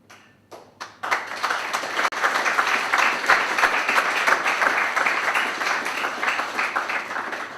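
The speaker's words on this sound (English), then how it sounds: "Thanks for that clap, brother." After a few isolated taps, an audience at an academic lecture breaks into sustained applause, many hands clapping in a dense, steady wash that carries to the end.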